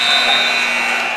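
A basketball buzzer sounds to end the first quarter of a high school state playoff game in a gym, a loud, steady electronic drone held for the full moment.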